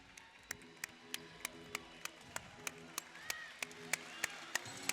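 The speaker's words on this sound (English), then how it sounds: "And the applause by the Filipino fans in attendance here at the Santa Rosa Multipurpose Complex in Santa Rosa, Laguna" Filipino fans at a basketball game in the Santa Rosa Multipurpose Complex, Laguna, clap in a steady, evenly spaced rhythm. The sharp, regular claps stay faint and distant, with voices murmuring underneath.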